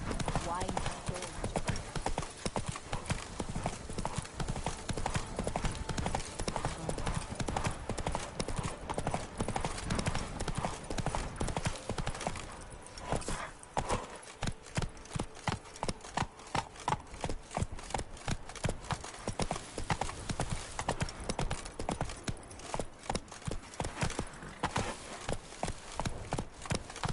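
Roach the horse galloping in The Witcher 3, a steady fast drumming of hooves that runs the whole time, near and loud, with a voice speaking over it at times.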